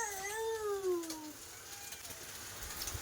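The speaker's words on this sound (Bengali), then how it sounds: "আর এদিকে দেখো বিড়াল ডাকছে, দেখো খাওয়ার জন্য।" A cat meows for food in a home kitchen while fish is being fried, giving a few drawn-out, rising and falling cries close by that fade into quiet room noise.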